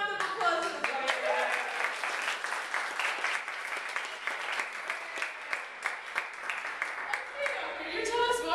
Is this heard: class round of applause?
yes